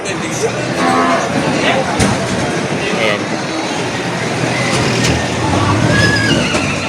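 Cattle moo repeatedly and horses whinny at the Padre Garcia livestock auction market in Batangas as sold animals are loaded, a steady, busy farmyard din with people talking throughout.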